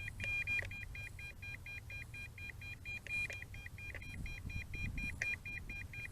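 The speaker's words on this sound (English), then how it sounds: "And it's a constant beeping." An MJX Bugs 5W GPS drone sounds a constant warning beep, a steady repeating electronic tone over a low rumble of wind and background noise while it attempts a return to home.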